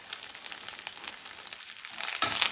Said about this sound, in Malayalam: കറി വെക്കാനുള്ള മുരിങ്ങല ആയതുകൊണ്ട് ഞാൻ തളിരിലയാണ് വറുത്തേക്കുന്നത്